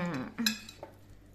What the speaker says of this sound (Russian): И вот так аккуратненько все перемешиваем.